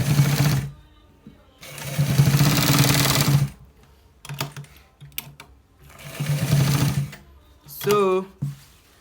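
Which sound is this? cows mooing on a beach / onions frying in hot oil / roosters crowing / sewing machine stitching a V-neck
sewing machine stitching a V-neck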